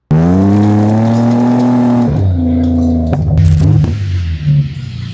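A BMW 535i engine starts and revs loudly up close, a strong harmonic drone climbing and falling through several throttle blips before settling back down.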